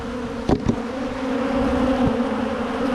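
Honey bees buzz steadily around a settling hive, a close, continuous drone with a couple of brief louder passes as individual bees fly near.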